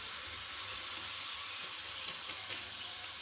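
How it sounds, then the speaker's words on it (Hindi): Nihari masala fries in a pan for beef nalli nihari, giving a steady, close sizzling hiss with a few faint stirring scrapes and no talking. "इसको भी हम थोड़ी सी देर इसमें फ्राई करेंगे ताकि मसालों का कच्चापन दूर हो जाए"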